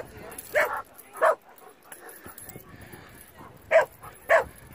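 A dog on a camping trip with mountain bikes in Wales gives four short, fairly loud yips or whimpering barks in two pairs, over low outdoor rumble and faint background voices.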